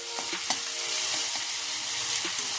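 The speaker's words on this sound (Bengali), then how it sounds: "দিয়ে নাড়াচাড়া করে ভেজে নেব যতক্ষণ না টমেটোটা গলে যায়" Chopped tomatoes fry in a pan for a sea crab curry, giving a steady, loud sizzle with soft stirring scrapes and taps throughout.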